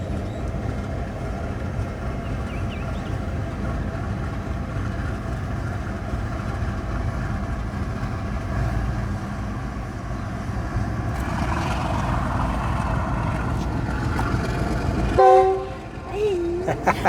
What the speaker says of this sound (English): Here, diesel engines. More trains.